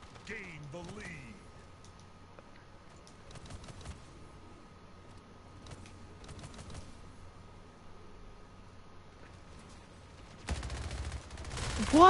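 Gunfire in the first-person arena shooter Splitgate, heard as quick, faint bursts of rapid shots scattered through a low game hum, with a louder burst of noise near the end and occasional talking underneath.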